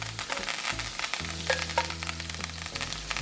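Steaks sear in a big pan of garlic, butter, rosemary and thyme, giving a steady, close, crackling sizzle with a few brief pops throughout.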